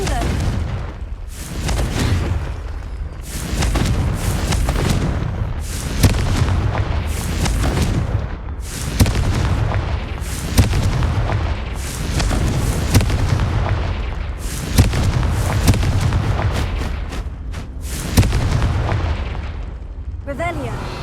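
Confringo blasting spells explode again and again in Hogwarts Legacy during a Merlin trial, a long series of loud booming bursts each fading into rumble, with a few short gaps between them.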